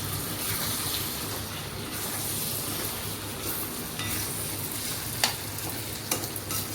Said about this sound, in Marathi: हे बघा बटाटे शिजत चालले.